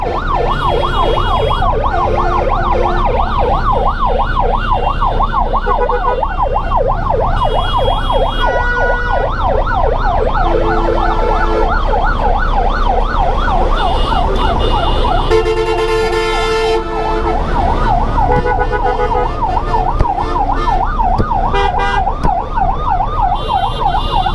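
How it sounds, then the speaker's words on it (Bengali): Several ambulances stuck in traffic, their sirens wailing loud and close in continuous overlapping up-and-down sweeps over rumbling road vehicles. "পিছনে আমার দুটো অ্যাম্বুলেন্স সামনে আরও দুটো অ্যাম্বুলেন্স"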